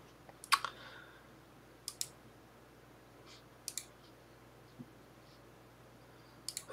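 A computer mouse clicks in short double-clicks and single taps spaced a second or two apart, close and crisp against a quiet room hum.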